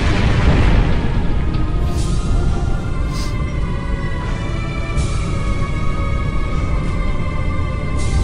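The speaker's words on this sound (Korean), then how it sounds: "모두들 피해! 터진다." A magical explosion in the game Trails Legend 4 (Shin Eiyuu Densetsu 4) gives a loud, sustained roaring boom with rumbling low end that fills the scene without pause and carries no speech.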